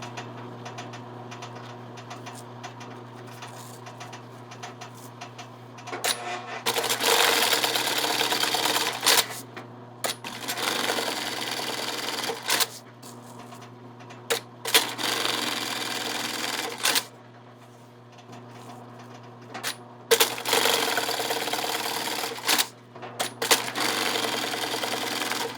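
An industrial sewing machine bar tacks bag straps in several separate loud mechanical bursts of rapid stitching, with quieter motor hum and pauses between them.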